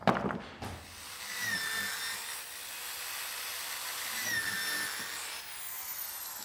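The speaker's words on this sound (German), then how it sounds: "Da Alexander Hein beim Bohren die Lasur durchbricht, färbt er die Bohrlöcher nochmals nach." A drill boring into wood while a beach chair is assembled, giving a steady whining drone with a sharp start. The tool sounds moderately close and carries on alone for several seconds.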